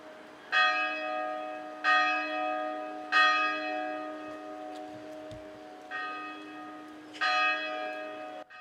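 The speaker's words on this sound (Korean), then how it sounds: "도남동 성당에선 환영의 종소리가 연신 울려 퍼졌습니다" Church bells ring at Donam-dong Catholic church in repeated resonant strokes, about five in steady succession, each one leaving a sustained humming tone beneath the next, with no voices.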